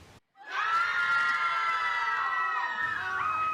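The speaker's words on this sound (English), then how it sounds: "a collection of horrified screams filled your eardrums" A crowd of people erupts into horrified screaming, many voices shrieking together loudly and continuously for about three seconds after a brief silent moment.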